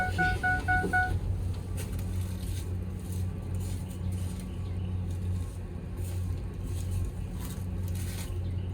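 A Freightliner Cascadia truck with dead batteries, just jump started, idles in a steady low diesel rumble close by. A few electronic beeps sound at the start.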